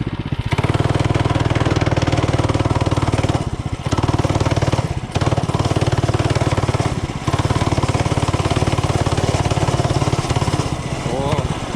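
A homemade mini bike's small engine drones loudly through a ride, a dense rapid buzzing pulse with a couple of brief dips where the throttle eases, and a voice talks over it.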